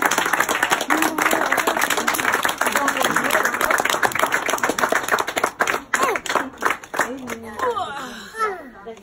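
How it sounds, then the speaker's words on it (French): An audience applauds after a short cello performance, with dense, lively clapping that holds for several seconds, then thins into scattered claps as voices start talking over the end. "On applaudit encore une fois."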